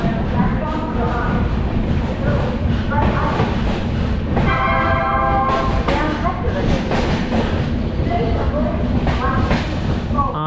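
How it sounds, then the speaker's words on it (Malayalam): An express train stands and rolls at Beas Junction railway station, a loud continuous rumble of carriages joined midway by a brief sustained horn blast, with rail clatter around it. "ബിയാസ് ജംഗ്ഷൻ റെയിൽവേ സ്റ്റേഷനിൽ നമ്മുടെ ട്രെയിൻ എത്തിയിരിക്കുകയാണ്."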